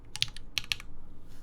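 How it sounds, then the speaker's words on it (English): Spacebar on a mechanical keyboard build with an FR4 half plate, a few quick clacky presses in two clusters, close and fairly quiet, with no talking. "Does your spacebar sound like this?"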